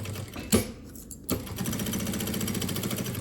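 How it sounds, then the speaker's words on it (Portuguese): A sewing machine stitches the side seam of a fabric bag: a short burst, a pause, then a steady, close, continuous run of rapid needle stitching. "Posso fazer essa costura inteira aqui, na verdade, tá?"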